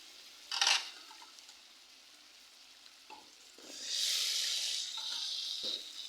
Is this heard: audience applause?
no